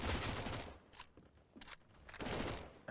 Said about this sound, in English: they're just gunning them down right now